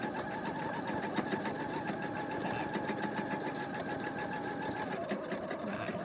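A sewing machine runs steadily at moderate speed during free motion stitching around a corner, producing a close, continuous rapid needle chatter with a faint mechanical whine throughout.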